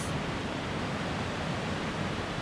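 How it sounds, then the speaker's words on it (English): Moving water of the Animas River along a trail near Durango, an even broadband rush of flowing stream, constant and fairly soft, with no talking over it. "to listen to moving water like this"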